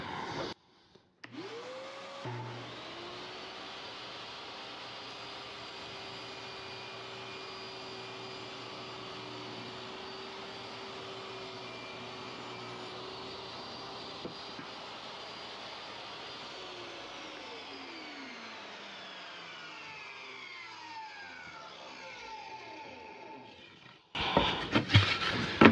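A power saw spins up, cuts steadily through a wood board for roughly twenty seconds, then winds down, followed by brief clatter at the end.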